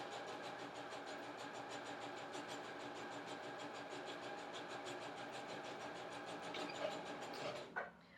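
Sewing machine stitching the long edge of a homemade fabric crossbody glove bag, a steady, evenly pulsing motor whir that runs without a break for several seconds and then stops abruptly.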